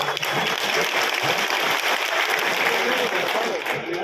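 Sustained applause from an audience at a BJP candidate's election office rally, steady and dense clapping throughout with no talk.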